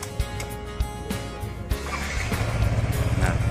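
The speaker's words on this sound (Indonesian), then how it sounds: "Coba mesin nyalain" A Yamaha NMAX scooter engine fires up after a few brief clicks and knocks, then settles into a steady, close idle with a rising low rumble and faint mechanical chatter.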